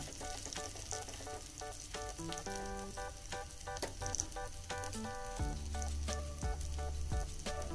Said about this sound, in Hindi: इसे सुनहरा होने तक फ्राई कर लेंगे